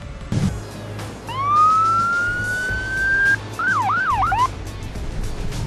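A US Coast Guard LA51 warning device aboard a patrol vessel blares a loud rising electronic tone, then a quick series of warbling yelps, close and alone over low engine rumble.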